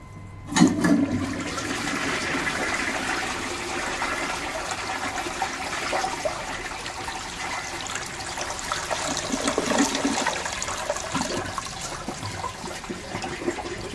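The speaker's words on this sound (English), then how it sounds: "Give it another flush." A 1944 Eljer Waco toilet flushing with paper and paper towel in the bowl, a loud close rush of water that swirls steadily, then tapers into trickling refill, with no voices.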